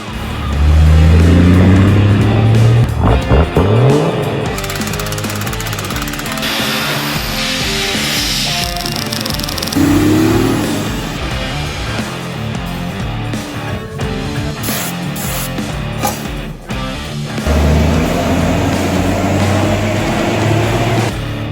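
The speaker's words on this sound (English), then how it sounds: "We're going to take it out and do a quick cruise on the highway" Turbocharged Toyota HZ diesel engine in a vehicle cruising on a highway, loud steady drone with shifts in pitch as it accelerates and changes gear, continuous throughout with no speech.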